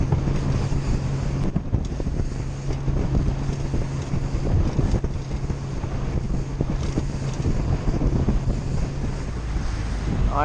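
A small boat travelling 60 kilometres offshore in wind: continuous loud wind buffeting over a steady low engine drone and water rushing against the hull, with no talking.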